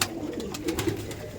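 Pigeons in a Behala loft of fancy breeding birds coo softly in a few low, rounded calls over faint background hiss, with no voices.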